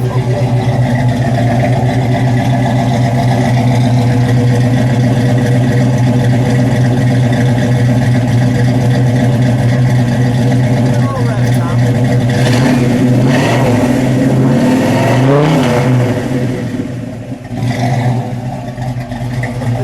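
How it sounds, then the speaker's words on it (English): A Ford 351 Windsor V8 in a 1969 Mercury Cyclone Spoiler idles loudly and steadily, then revs up a few times in quick bursts near the end before dropping back. "I'm going to listen to that idle and then we'll give it a little rev."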